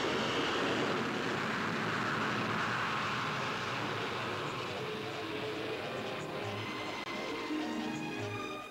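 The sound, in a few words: Vickers VC10 jet airliner flying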